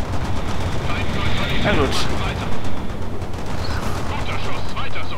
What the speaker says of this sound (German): Guter Schuss, weiter so.